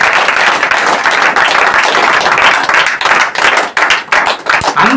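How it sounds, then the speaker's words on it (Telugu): A church congregation claps together during a prayer service, a dense, loud, continuous patter of many hands that thins briefly near the end. "మొత్తం చప్పట్లు కొడదాం అందరికీ"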